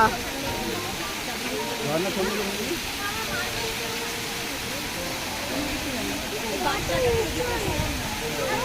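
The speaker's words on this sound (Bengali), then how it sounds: "কারণ এই জলটা ওপর থেকে নিচে পড়ছে" A mountain waterfall pours from a height into the spray below, making a constant broadband rushing hiss close by, with voices talking over it now and then.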